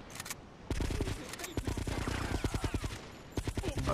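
Gunfire in the video game GTA: Vice City Stories, a rapid string of sharp, loud shots in bursts, close and steady with brief pauses between volleys.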